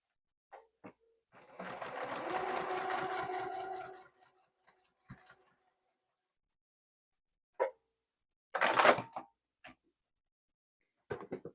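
A sewing machine stitches down the edge of a fabric rectangle in one steady whirring run of about two and a half seconds, followed by scattered clicks and handling taps in a quiet room.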